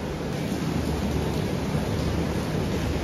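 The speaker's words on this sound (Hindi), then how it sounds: "पिछले 2 घंटे से क्या बारिश हो रही है" Heavy rain pouring down steadily, a dense, close, unbroken hiss and patter with a low rumble beneath it, constant throughout.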